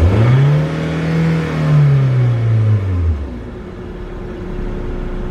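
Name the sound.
car engine revving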